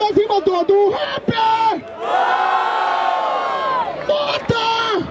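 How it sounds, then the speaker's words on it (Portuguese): A crowd at a Brazilian freestyle rap battle in Barueri, São Paulo, roars, cheers and yells loudly and steadily for several seconds, with shouted voices rising out of the din. "Barulho para quem gostou das rimas do rap!"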